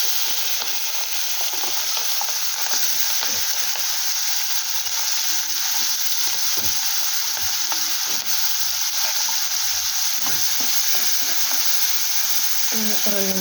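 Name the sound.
onions and green chillies frying in a pan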